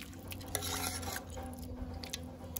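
A spoon stirs fish in annatto sauce in a pot, a soft scraping and clinking with a low simmering hiss, faint and continuous with a few sharper taps.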